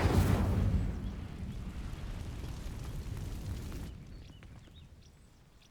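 Incendio fire spell in Hogwarts Legacy sets dry vines alight with a loud whooshing burst that settles into a steady roaring crackle of flames, then fades with faint magical chimes.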